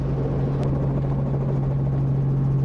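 A steady, loud rotor drone and engine hum fill the cockpit of a Robinson R44 helicopter near Wycombe Air Park, with a constant low throb and no break.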